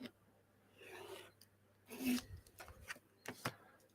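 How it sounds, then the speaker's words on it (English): A craft knife trims parchment in short scraping strokes, close and quiet, a few separate cuts with brief pauses between them. "So I'm going to take my knife again. And I'm going to trim that down."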